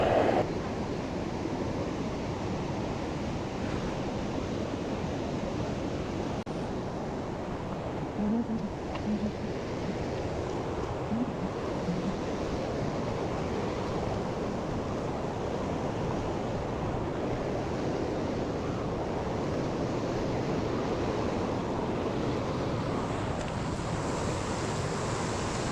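Water falls at Kalu waterfall beneath mist, a steady, soft, broad rushing roar that continues unbroken and fairly faint throughout, with no talking.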